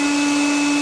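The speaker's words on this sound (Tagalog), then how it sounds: "And then, meron tayo ditong vacuum." Cordless handheld vacuum cleaner running, a loud steady motor whine with a strong single tone and airy hiss, constant and close for under a second.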